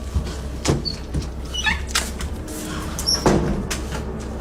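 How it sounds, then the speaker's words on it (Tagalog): Mysterious knocking in a quiet room at night: sharp, separate knocks spread irregularly through the clip, with a couple of louder raps standing out over a steady low background hum, and no speech. "Sa video ay mapapansin natin ang pitong mga katok"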